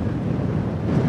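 Gusty wind at a beach resort buffets the microphone in a continuous low rumble, loud and close, with no voices.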